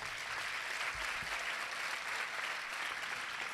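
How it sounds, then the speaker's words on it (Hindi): A church congregation gives loud, sustained applause in honour of parents during a Lent Friday service, a dense even clapping that fills the whole stretch without any talking. "तो ऐसे वालिदैन के लिए जरा जोरदार ताली हो जाए।"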